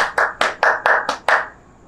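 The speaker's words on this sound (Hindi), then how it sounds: "तालियां।" A few people clapping hands at home, six distinct rhythmic claps close to the microphone, loud and clear with no talking over them.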